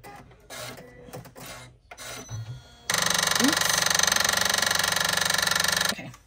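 An embroidery machine whose hoop has jammed. Softer machine noise gives way to a loud, harsh, sustained buzzing rattle that holds for about three seconds and then cuts off abruptly.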